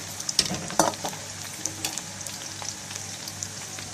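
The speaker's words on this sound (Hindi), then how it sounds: "अब मैं इसमें लहसुन अदरक का पेस्ट डाल देती हूँ।" Garlic ginger paste sizzles softly in a hot pan, with a steady crackle and occasional scraping stirs.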